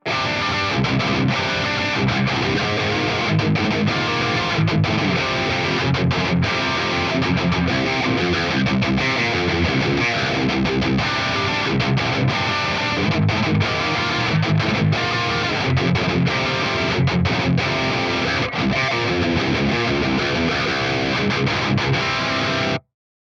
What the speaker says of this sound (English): kind of set up for more of a like tight, dry rhythm guitar sound